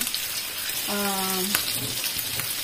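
An egg sizzles as it fries in a pan, a steady close hiss throughout with a brief tonal squeak midway and a faint voice in the background.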